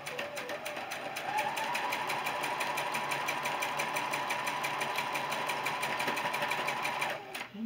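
A sewing machine running continuously as it stitches quilt block seams, a steady fast mechanical whir and needle chatter that holds constant before stopping abruptly near the end.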